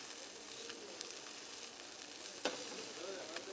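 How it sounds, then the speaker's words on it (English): Fish sizzling steadily in a hot pan, a continuous close-up hiss of frying with a few sharp pops and spatters, and no voices. "So we got this stuff going in the hot pan here."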